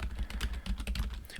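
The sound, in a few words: typing on a computer keyboard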